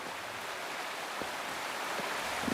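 A steady, full rush of falling water from a waterfall in the Wuthering Waves video game, broad and constant throughout with no talk.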